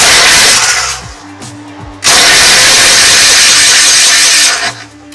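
An old tractor engine cranking and trying to start, loud grinding bursts of the starter and engine separated by a pause, with the engine catching briefly before dropping away.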